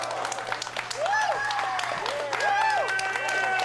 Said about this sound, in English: Hearing the applause of the fans in attendance here in Berwyn